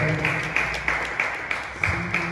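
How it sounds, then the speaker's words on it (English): An audience at a fintech conference on the African digital asset ecosystem gives a short burst of applause, with dense clapping that is fairly close and steady for a couple of seconds. "Once again, round of applause."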